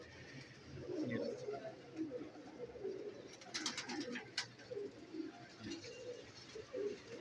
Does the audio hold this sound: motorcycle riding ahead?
no